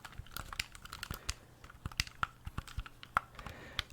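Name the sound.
game controller button sounds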